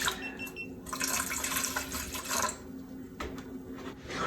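Distilled water pours steadily into a container while soap is being made, a close, continuous splashing stream with brief pauses and no talking.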